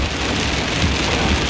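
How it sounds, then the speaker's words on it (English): Steady heavy rain pours outdoors beside a lake, a dense continuous hiss of drops with no voices. "Go away, rain. Go away."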